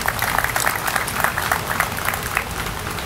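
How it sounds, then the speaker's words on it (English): Crowd applauding outdoors at a groundbreaking ceremony for a development on a city boulevard, many hands clapping in a lively, uneven patter with sharp individual claps standing out, steady and continuous. "Come on, let's give them a round of applause again."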